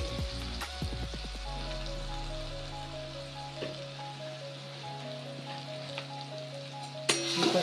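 Manchurian sauce with soy sauce sautéing in a pan, giving a steady, moderate sizzle with occasional light clinks of a utensil against the metal.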